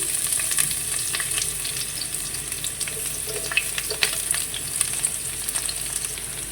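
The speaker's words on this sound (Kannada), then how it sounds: "ಇವಾಗ ಈರುಳ್ಳಿ ಹಾಕ್ತಿದ್ದೀನಿ." Onions fry in hot oil for a potato and fenugreek leaf curry, giving a close, steady crackling sizzle dotted with sharp pops and light stirring, without talk.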